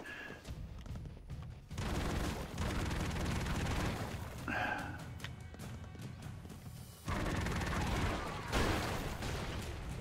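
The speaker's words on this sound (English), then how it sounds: "I thought those were actual proper grenades" Grenade blasts in Broforce, loud crashing explosions rumbling in several long surges over continuous gunfire-like clatter, with little pause between them.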